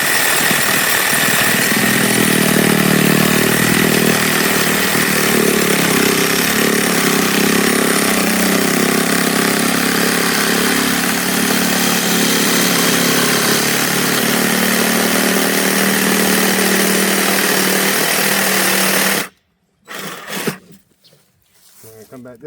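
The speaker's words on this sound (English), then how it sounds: "Sawzall. And you're going to cut it along this flat piece right through here." A Sawzall reciprocating saw cutting through an RX-8 suspension knuckle, loud and steady with a harsh buzzing rasp for about twenty seconds, then stopping abruptly into a few clanks.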